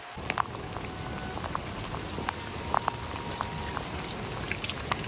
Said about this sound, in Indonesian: Ah, hujan. Hujan. Hujan.